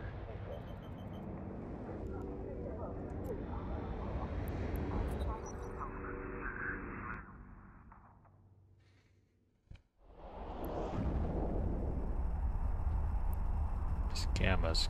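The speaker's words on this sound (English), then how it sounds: "Warp drive active." An EVE Online warp drive engages as a loud, steady rushing drone that swells and holds, drops to near silence with a brief click, then surges back at full strength, with a voice talking over it.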